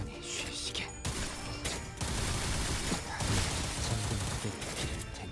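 A magazine dump of gunfire in Limbus Company: a dense, continuous barrage of rapid shots and crashing impacts with brief gaps, loud and close, under a game soundtrack.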